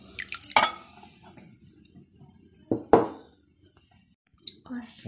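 Eggs go into a mixing bowl with cake batter ingredients such as oil, sugar and orange: two sharp cracking taps and a wet plop come close up, with quiet sounds between them.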